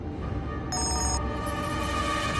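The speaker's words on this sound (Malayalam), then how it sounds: "കല്യാണി, ഫോൺ എടുത്ത് സംസാരിക്കുക." A telephone rings in a Malayalam TV serial scene, a steady electronic ring sounding over a constant background hum, close and clear with no talking.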